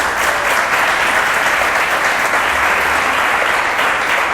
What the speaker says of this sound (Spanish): démosles un aplauso a mis hermanos